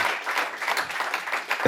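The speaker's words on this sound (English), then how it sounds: "Can I get a round of applause for Kessler?" Audience applause at the close of a live Footprints session on Operator Radio, a steady wash of many hands clapping that stays fairly loud throughout the short stretch.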